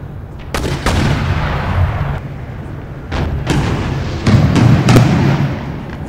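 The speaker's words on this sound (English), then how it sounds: "Here my heavy mortars have opened up fire." Heavy mortars firing in a video game battle, a series of sharp booming shots with rumbling tails, several in quick succession, loud and close over a constant low battle rumble.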